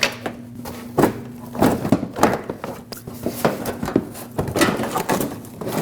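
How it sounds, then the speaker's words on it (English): A plastic fender liner on a Nissan Frontier is wiggled and worked loose by hand, giving a run of irregular hollow thumps, knocks and scraping rustles up close. "Now you can take the fender liner and wiggle it out of place, push it towards the inside, and then towards the bottom"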